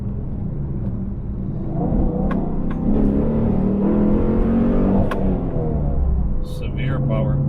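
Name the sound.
cammed Dodge Challenger R/T accelerating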